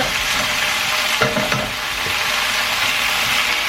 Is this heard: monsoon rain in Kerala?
no